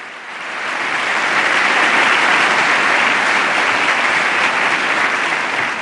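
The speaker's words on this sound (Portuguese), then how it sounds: "todos de pé, aplaudem Papa Francisco" A large audience in the US Congress chamber gives a standing ovation to Pope Francis, with sustained, dense applause that swells in within the first second and holds steady and loud throughout, without speech.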